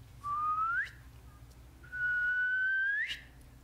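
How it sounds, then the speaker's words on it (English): A female northern spotted owl gives two very soft, rising whistles, each a thin upward-sliding tone, the second one longer, heard faintly and alone against quiet background hum. "she'll often do just these very soft whistles"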